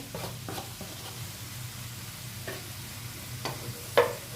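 Two medium chopped onions fry in oil in a pan for kadhi pakora, giving a low steady sizzle with a few soft stirring scrapes and a brief clink near the end.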